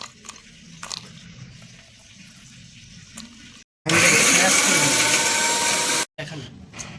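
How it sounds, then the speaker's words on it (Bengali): A mixer grinder turns cashew nuts into paste for a prawn malai curry. It roars loud and steady for about two seconds, with kitchen handling noises and brief talk before it starts and after it stops. "প্রথমে আমরা কাজুটিকে পেস্ট করে নেব।"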